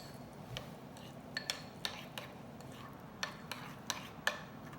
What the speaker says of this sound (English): Emily, you can give that a good mix for us